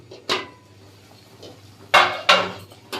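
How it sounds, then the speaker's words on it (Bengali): A metal lid lifted off a pot of boiled eggs in a home kitchen: a sharp clank, then two louder metallic clatters close by, with no talking. "ডিমগুলি সিদ্ধ হয়ে গিয়েছে, এখন ঢাকনাটা উঠিয়ে নিব।"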